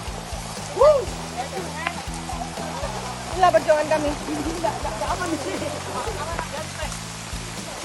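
Heavy rain pours down steadily during an outdoor evacuation near the lake at Situ Sukarame, Sukabumi, a continuous wet hiss under people talking throughout.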